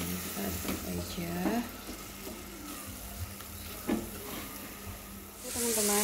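Spice paste with torn lime leaves and lemongrass stalks sizzles in a pan while being stirred for soto Betawi, a soft frying hiss with occasional scraping as a person talks over it.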